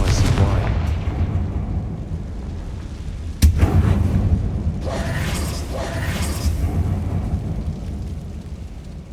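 The Confringo blasting spell in Hogwarts Legacy goes off inside an old closed mine: a single sharp blast cuts through a low rumbling background, followed by scattered crackling and rattling debris.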